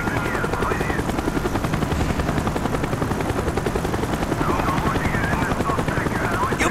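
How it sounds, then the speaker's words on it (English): A helicopter hovers overhead in Call of Duty Black Ops, with a loud, steady rotor chop running throughout and scattered gunfire mixed in, while voices talk underneath. "Avoid the helicopter spot."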